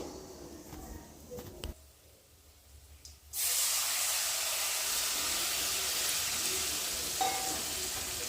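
Tamarind juice poured onto hot roasted spices in a pan bursts into a loud, steady hiss and sizzle that runs for about five seconds after a few quieter kitchen clatters.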